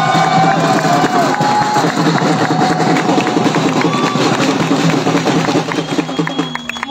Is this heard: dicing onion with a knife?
no